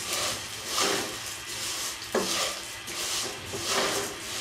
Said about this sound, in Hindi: अब हम इसमें डालते हैं सेवइयाँ और अब हम इन्हें फ्राई करते हैं।